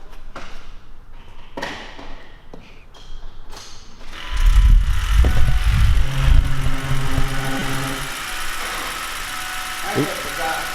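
After some talking, clicks and handling noises, a crew cab truck that has sat unused for six months cranks and fires up, then settles into a loud, steady rumbling idle close by.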